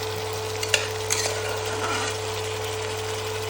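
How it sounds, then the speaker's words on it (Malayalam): Cooked chicken tipped into sautéed onions in a pan for chicken stew, a steady sizzle with a few metallic clinks and scrapes of a spoon stirring, close and moderately loud over a constant low hum. "ഇനി ഈ ചിക്കൻ നമ്മൾ വഴറ്റി വെച്ച് സവാളയിലേക്ക് ഇട്ട് കൊടുക്കുന്നുണ്ട്."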